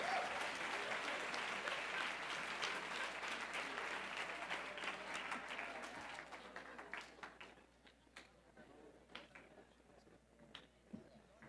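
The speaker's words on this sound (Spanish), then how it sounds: "vamos a darles un fuerte aplauso por favor a los panelistas" An audience applauds the panelists at a social media talk. Dense clapping starts loud, then thins over the second half into scattered, fading claps.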